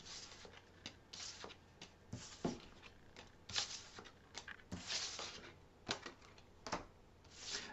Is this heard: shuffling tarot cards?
yes